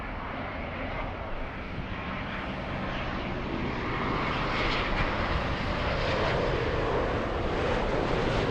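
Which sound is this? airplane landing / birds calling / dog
airplane landing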